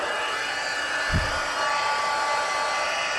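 A heat tool blows a loud, steady hot-air roar while melting embossing powder on a stamped card, the whooshing drone continuous throughout.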